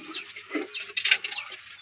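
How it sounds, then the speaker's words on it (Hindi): Fancy pigeons from a home collection coo softly, with soft rustles and faint wing flutters, close by and fairly quiet, with no talk over them. "ये देखो ये फैंसी कबूतर।"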